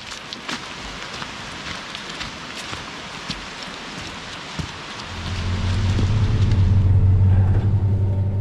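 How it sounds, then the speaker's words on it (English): Rain falling on autumn hills, a steady close hiss of drops on surfaces with scattered louder splats, joined midway by a low rumbling swell like distant thunder or a passing engine. "The rain made the foliage shine, and it knocked the leaves off the trees throughout the day."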